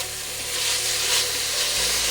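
Steak sizzles steadily in a hot pan for a stir fry, a soft continuous hiss and crackle that stays fairly faint and close.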